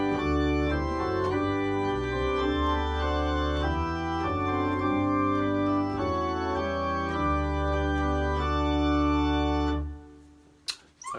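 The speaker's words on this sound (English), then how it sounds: "Okay, so that's The King of Love, My Shepherd Is." The hymn tune The King of Love My Shepherd Is, played as a slow, sustained keyboard or organ setting with full held chords moving step by step, steady and even, ending with a short fade and a faint knock.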